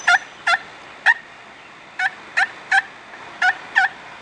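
Hand-operated turkey call sounding a series of sharp two-note yelps in uneven clusters, loud and close with no other sounds, imitating a wild turkey.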